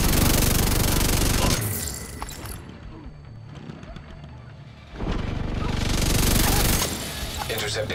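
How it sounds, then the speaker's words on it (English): A minigun in The Division PC game fires in two long, dense, roaring bursts of rapid rounds with a mechanical whir, separated by a quieter pause, loud and close. "Come on, we'll run my minigun!"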